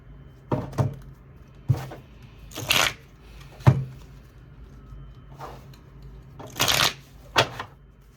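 Tarot cards are shuffled in several short, crisp bursts of riffling and slapping, separated by pauses, close and clear with no talking.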